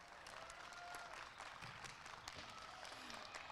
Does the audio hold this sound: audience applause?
yes